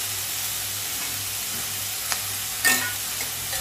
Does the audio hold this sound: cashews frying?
yes